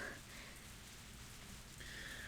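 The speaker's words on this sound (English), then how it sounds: "The rain began to pick up." Soft, steady rain falls with a constant hiss in a Higurashi visual-novel scene, quiet and even throughout with no voices.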